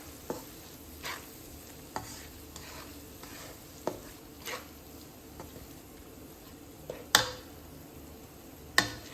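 A fish and okra curry mixture with tamarind on the way is stirred in a pot, giving soft scraping swirls under a faint steady sizzle, punctuated by a few sharper knocks of the spoon against the pan.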